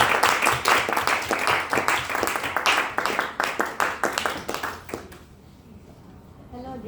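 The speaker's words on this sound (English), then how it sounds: "Please give a big round of applause to Toastmaster Amira Zakaria." Applause at a Toastmasters meeting: a crowd claps in quick overlapping bursts for about five seconds, close and lively, then fades into quiet room tone.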